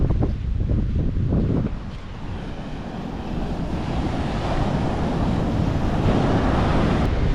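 Sea waves break and wash up onto a beach in Sri Lanka, a loud, continuous roar of surf that swells and churns throughout, with no talking.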